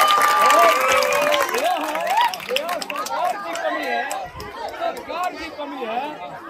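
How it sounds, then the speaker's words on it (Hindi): Schoolchildren at a village government school clapping for their teacher, a lively burst of applause mixed with excited chatter and shouts that carries through the whole moment. "ताली बजाइए सर के लिए।"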